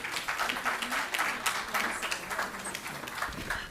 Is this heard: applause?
yes